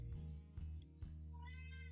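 An elderly 20-year-old cat meows indoors near a desk, two or three short, fairly faint cries with a low steady hum underneath.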